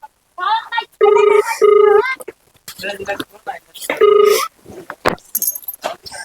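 A telephone call rings out unanswered, with repeated electronic ringing tones. People talk over and between the rings.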